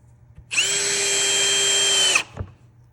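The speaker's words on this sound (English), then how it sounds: "Drive that screw in." A power drill whirs steadily for about a second and a half as it drives a screw into a wooden chair during assembly, then stops, followed by a soft knock.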